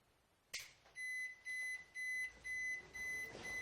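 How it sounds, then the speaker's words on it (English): A Japanese hybrid electric fan and natural gas heater refusing to ignite sounds a loud click, then a series of six evenly spaced, high electronic alarm beeps, close and clear with no talking. "it has started beeping and alarm for the user, and it is not turning on the gas."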